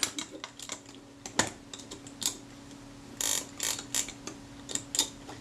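Film advance ratchet mechanism of a Retina II camera with Ektar lens being worked, giving a run of small, close, dry mechanical clicks and snaps at irregular intervals, with a few brief louder clusters.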